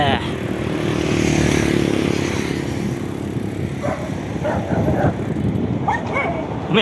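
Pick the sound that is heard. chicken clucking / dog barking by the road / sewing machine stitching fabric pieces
dog barking by the road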